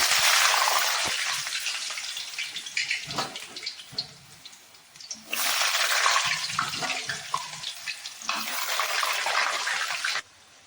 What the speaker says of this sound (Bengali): তেলটা সুন্দরভাবে গরম হয়ে গেছে, এর উপরে আমি এখন আলুটা ছেড়ে দেব। একে একে আলুটা ফ্রাই করে দেব।